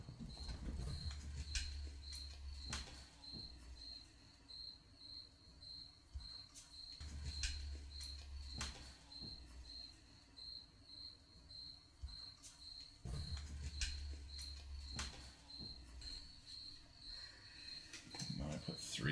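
Steady crickets chirp in a continuous high pulsing trill throughout, with occasional soft bumps and low thuds underneath in a quiet room.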